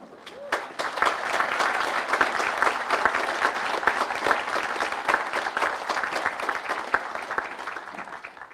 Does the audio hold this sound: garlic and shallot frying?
no